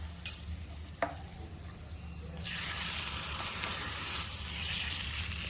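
Hot spice tempering is poured into coconut kadi: a couple of sharp clinks, then a steady loud sizzle and crackle rising midway and holding to the end, with no talk.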